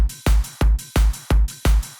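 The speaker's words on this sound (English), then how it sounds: "an open hi-hat here." A punchy electronic drum loop: a deep kick thumps on each beat while an open hi-hat hisses and rings between them, steady and upfront with no voices.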